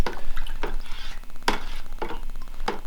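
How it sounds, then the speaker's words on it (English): Muscadine wine must is stirred slowly and gently in a fermenting vessel, giving wet sloshing swirls that come in separate strokes about every half second to second, close and clear, with no talking. "I'm gonna give it a very gentle stir"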